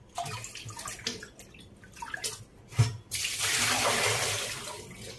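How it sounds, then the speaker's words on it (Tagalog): Old, month-long green water being emptied from a houseplant's container: a few light knocks and handling clunks, then a steady, close pouring and splashing of water that continues to the end. "So alisin natin yan para palitan ng bagong tubig."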